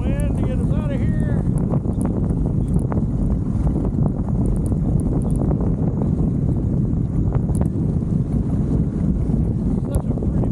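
Strong wind buffets the microphone at a lakeside canyon state park, producing a loud, constant rumbling roar with brief faint voice-like sounds near the start.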